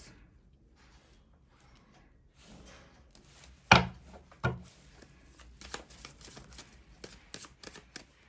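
Tarot cards are shuffled and drawn in a quiet room, with a few soft rustles followed by two sharp snapping shuffles and lighter flicks and taps.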